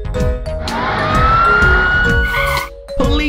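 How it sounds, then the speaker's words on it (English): A police car siren wails loud and close, its pitch sweeping up and holding over a background of toy-like music before cutting off near the end. "Police car."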